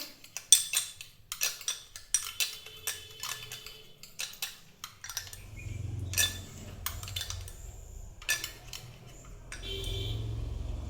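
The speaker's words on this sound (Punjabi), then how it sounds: "ਇਹਨੂੰ ਚਮਚ ਦੀ ਹੈਲਪ ਦੇ ਨਾਲ ਜਿਹੜਾ ਅਸੀਂ ਚੰਗੇ ਤਰੀਕੇ ਨਾਲ ਹਿਲਾ ਲਵਾਂਗੇ" A spoon stirs a small amount of coconut oil mixture in a bowl, giving quick light clinks and scrapes in irregular bursts, close and fairly quiet, with a low rumbling hum underneath later on.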